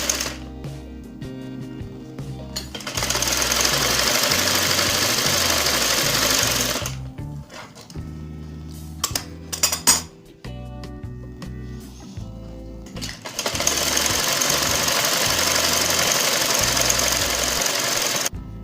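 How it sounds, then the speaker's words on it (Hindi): A sewing machine stitches a shalwar in long, loud continuous runs, starting and stopping with brief pauses between seams, close to the listener and with no talking. "दूसरी साइड की कुंजी को नीचे से नीचे रख के सिलाई लगानी है।"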